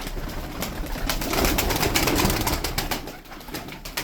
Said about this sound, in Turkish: Burada da çok güzel egzantrik kuşlar var.